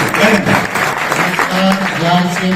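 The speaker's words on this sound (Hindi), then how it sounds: "आप सब तालियां बजाइए" Audience applause at a seminar in Rohtak, a dense, steady patter of many hands clapping close by for a couple of seconds, with voices mixed in.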